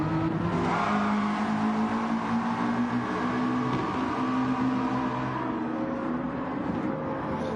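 A McLaren race car in Gran Turismo 7 at Brands Hatch is pushed hard, its engine holding a steady, loud, high-revving drone with slowly shifting pitch throughout, with no talk over it.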